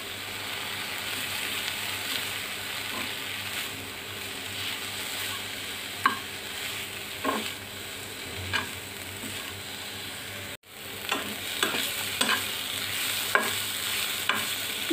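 Fried taro leaves and coriander leaves are stirred in a pan, with a soft continuous sizzle broken by repeated scraping and clattering strokes of a utensil, close but fairly quiet.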